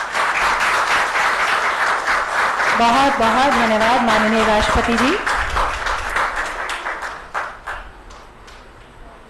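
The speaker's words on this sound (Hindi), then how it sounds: "जोरदार तालियां।" Loud applause from the audience at a ceremony with the President in Dehradun where children receive low vision glasses: dense clapping throughout that fades near the end, with someone speaking over it midway.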